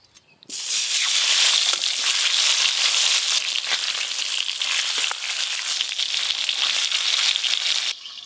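Large tangra fish hit hot mustard oil with a sudden loud, close sizzle that roars steadily for about seven seconds before cutting off abruptly. No one speaks.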